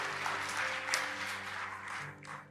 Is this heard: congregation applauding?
yes